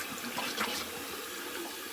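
Water splashes and trickles at a sink as a face is rinsed after shaving, a short, fairly quiet burst of liquid sound with no talking.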